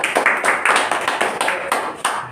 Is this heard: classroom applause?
yes